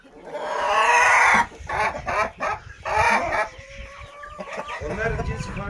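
Chickens and a rooster on a village farm cluck loudly in close, irregular bursts, with a drawn-out crow-like call partway through and scattered speech in the background.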